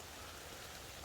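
Rain falling in a dense mountain forest, a soft, even hiss of drops on leaves and ground that holds steady and faint.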